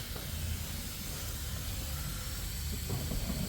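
A continuous loud hiss of a smoke test machine blowing vapor into a car engine to find a leak, steady throughout with a low rumble underneath.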